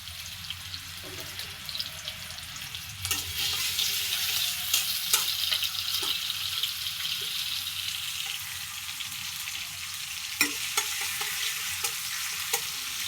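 Onions sizzling in oil in a kadai (wok) with a steady hiss, occasional clinks and scrapes of a utensil against the pan.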